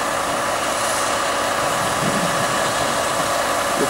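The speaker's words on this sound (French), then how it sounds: "Le moteur du diesel 69292 livré infra qui tourne." Diesel locomotive 69292 in infrastructure livery idling, a steady loud engine rumble and hum with no change in rhythm throughout, close by and alone without voices.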